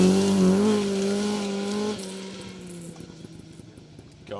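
A Mark II rally car on a Welsh forest stage powers past with a loud, rising engine note, then fades as it drops gears and pulls away, with crackling gravel and tyre noise trailing off.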